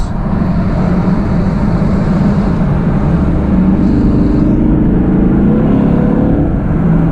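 A loud 2016 Chevrolet Camaro SS engine roars steadily from close by, its deep rumble building and revving as it accelerates.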